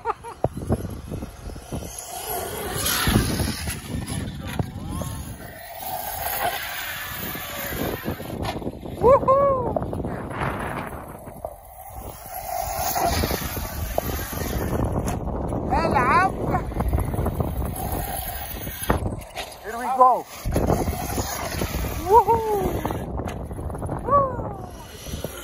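Red Arrma Outcast 8S RC car driving outdoors, a loud buzzing electric motor whine that rises and falls in pitch with passing runs, amid wind noise and people talking.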